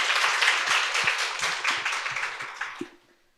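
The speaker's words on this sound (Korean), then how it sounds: "세 분 모두 큰 박수로 환영해 주시기 바랍니다" At a literary festival in Seoul, an audience claps to welcome three authors, a moderate burst of applause with individual claps audible that thins and fades out near the end.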